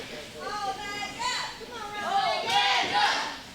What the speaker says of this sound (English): Crowd once again chanting for Omega.